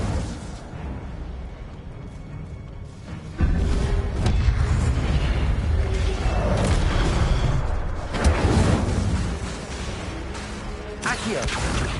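Incendio fire spell cast in the video game Hogwarts Legacy, heard as loud booming magical bursts with a sustained roaring, crackling blast that swells partway through, layered with other game effects and no speech.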